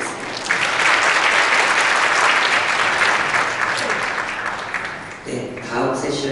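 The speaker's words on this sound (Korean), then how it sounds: "권영걸 대표님께 다시 한번 큰 박수 부탁드리겠습니다" A lecture audience gives a long, dense round of applause for the speaker. It holds steady for several seconds, then tapers off as a voice starts speaking near the end.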